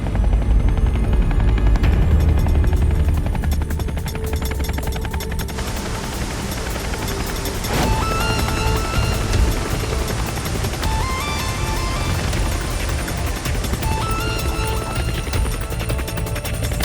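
Cartoon helicopter flying in a Telugu animated plane-crash episode, a steady loud rotor-like drone with rattling, gunfire-like bursts and layered effects running throughout without pause.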